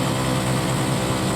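A TMX 125 tricycle motorcycle engine running on Sabluyon Road in Ligao City, a continuous steady drone heard close and loud, with no talking.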